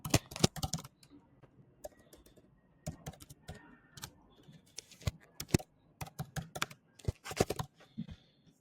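Keys clack on a computer keyboard in irregular bursts of quick taps with short pauses, close and fairly quiet, with no voice over them.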